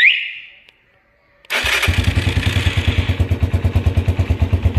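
A new self-start motorcycle cranks after a brief quiet moment and catches. The engine then settles into a loud, close idle with a steady, rapid pulsing rhythm.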